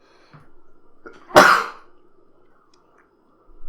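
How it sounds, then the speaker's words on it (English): One sharp, loud sneeze close to the microphone, a sudden burst amid a quiet room with faint background hum. "I sneezed."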